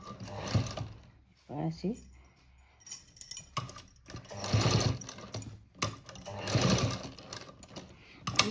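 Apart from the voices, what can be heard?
sewing machine stitching blouse cut work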